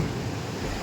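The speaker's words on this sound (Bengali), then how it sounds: "বাইরে ঝড় বৃষ্টি সব একসাথে উঠেছে" Storm wind and rain outside a house during a power cut, heard as a brief, steady, dense roar of rushing air and rain noise with no voices.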